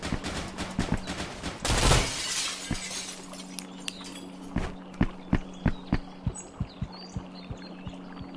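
Gunfire in the game Intruder, pistol shots among it, plays with loud glass shattering early on, followed by a run of sharp, evenly spaced shots over a steady low hum.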